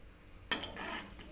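A utensil scrapes and clinks against a cooking pot of tamarind water, starting with a sharp contact and continuing as a soft, close stirring rustle.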